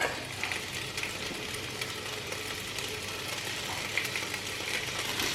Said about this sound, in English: next I'm gonna put all of my peppers in, along with my garlic